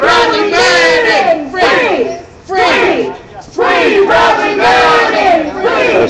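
Protest crowd at a San Francisco rally loudly chanting "Free Bradley Manning" in repeated bursts, many voices shouting together with short pauses between chants.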